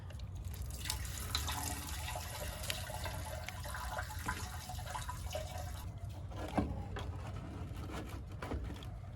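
Fuel pours and splashes steadily out of an old rusty Ford F-250 that has sat for years, a continuous trickling stream with occasional drips, close and moderately loud.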